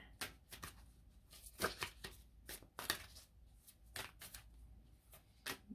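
Moonology oracle cards are shuffled by hand close up, a quick run of papery riffles and slaps in uneven bursts, with no talk.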